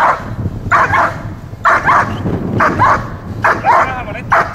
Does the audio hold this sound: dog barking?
yes